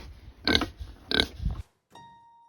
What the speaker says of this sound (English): Cinnamon Bun thinks she's a mountain climbing pig